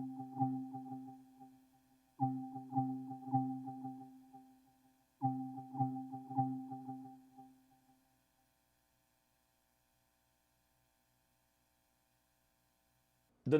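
The Island Bliss trap synth preset from the Maschine Pure Drip expansion plays three short bursts of bell-like, rhythmic plucked notes, each phrase repeating and decaying, followed by silence.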